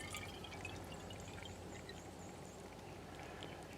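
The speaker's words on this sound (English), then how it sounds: "just fill this up right to the top, spilling as much as I can." Water pours steadily into a half-gallon container filled to the brim and spilling over, a faint continuous splashing trickle with no voices.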